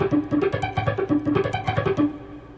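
Electric guitar picking exercise in a rock lesson, muted strings worked with the right hand only, each picked note cleanly separated; a steady, even run of short, crisp plucks sounds close and moderately loud with no talking.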